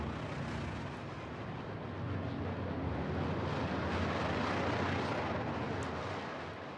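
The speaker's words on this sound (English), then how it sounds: "maybe treat ourselves to a nice flyby" Spaceship flyby in Star Citizen during a Cutter race, heard as a broad, steady roar that swells slightly toward the middle and fades a little at the end, with no voices.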